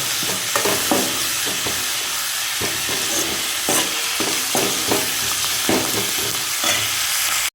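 Banana flower and drumstick leaves stir-fry in a pan with a continuous sizzle, broken by a regular series of sharp scraping stirs, close and fairly loud.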